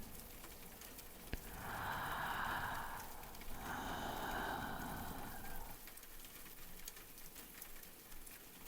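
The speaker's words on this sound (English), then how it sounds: "The rain is still falling." Steady rain falling at night, a soft continuous patter spread across the whole stretch, with a couple of brief louder swells of hiss in the middle.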